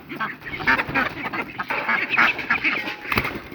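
A crowd of ducks quack noisily inside their coop as the door opens for morning feeding, rapid overlapping calls near and loud, with a person talking among them.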